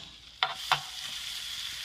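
Caper berries tipped into a pan of frying garlic and shallots, two quick clattering drops over a steady bright sizzle, close and fairly loud, no voices.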